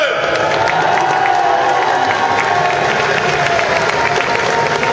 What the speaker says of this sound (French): On peut les applaudir bien fort, mesdames et messieurs.